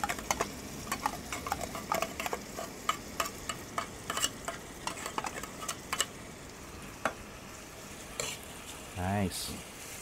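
A utensil stirs food in a cooking pan at a homestay kitchen, with soft scraping and light clicks tapping irregularly against the pan over a quiet sizzle, plus a brief louder clatter near the end.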